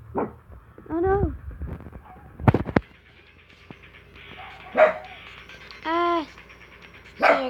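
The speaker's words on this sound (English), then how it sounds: "Sorry guys, my dogs are barking." Household dogs barking and whining in a few separate, loud, nearby outbursts with pauses between them, during a session of a flood escape video game.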